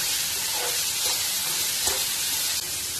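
Onions and carrots with salt sautéing in a pan, a loud, dense, continuous sizzle close by with a few soft stirring scrapes.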